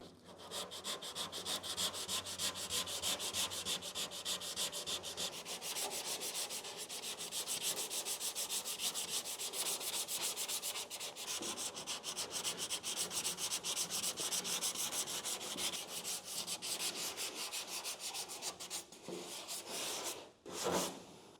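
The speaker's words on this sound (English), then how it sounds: "Get my hand sander, and we can finesse this a little bit." A hand sander works filler on a car firewall, a steady, close scratchy rasp running almost without pause, with a brief lull and a louder burst near the end.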